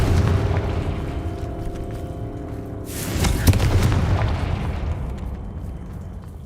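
Confringo blasting spell going off in a video game: a loud booming blast with a long rumbling tail, followed by a second sharp burst midway that rolls out into crackling debris, with no voices.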